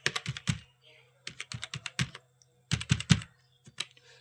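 Someone types an Aadhaar card number into an online income certificate form on a computer keyboard, giving crisp close key clicks in quick clusters with short pauses between groups.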